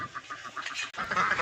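Ducks at a village farm give a run of nasal honks and quacks. The calls are moderately close and fairly quiet, repeated in quick bursts, with no talking.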